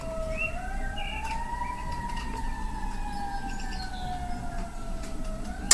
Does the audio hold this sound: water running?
no